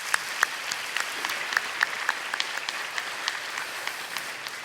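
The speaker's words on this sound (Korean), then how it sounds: "우리 하나님께 다시 한번 영광의 박수를 올려드립시다" A church congregation at a Friday prayer meeting bursts into steady applause, dense overlapping claps sustained for the whole stretch at moderate distance, with no voices rising above it.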